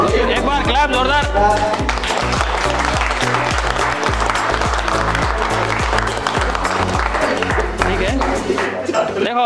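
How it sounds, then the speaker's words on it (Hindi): A group of people gathered for a cake cutting at a mobile repair training center clap loudly together, with sustained, energetic applause and some crowd voices underneath throughout. "एक बार क्लैप जोरदार"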